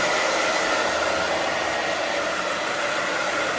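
A hair dryer blows steadily on short pixie-cut hair, a loud, close, unbroken whooshing roar with no pauses.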